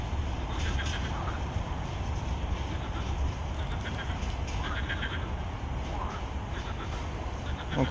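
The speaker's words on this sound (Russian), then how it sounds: "Квакушки квакут." Frogs croak faintly near a railway line, scattered calls rising over a low, steady rumble of a train fading in the distance.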